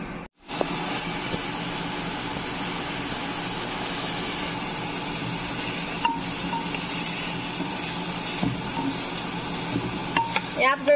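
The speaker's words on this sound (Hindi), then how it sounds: "यहाँ पे फ्राई कर रहे हैं सोयाबीन" Soybeans frying in a generous amount of oil in a pan give a steady, close sizzle and hiss that runs without a break for the whole stretch, with a few faint clinks of stirring.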